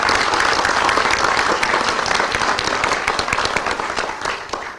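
A crowd gives sustained applause for the Louisiana Department of Education team at a state report card announcement, dense clapping that is loud and close and fades slightly toward the end.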